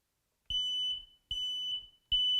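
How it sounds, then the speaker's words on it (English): A household smoke detector beeps after a fresh battery goes in and its test button is pressed. Three loud, shrill, steady tones sound alone, each lasting under a second and separated by short silent gaps. "you push it, you'll hear it beep."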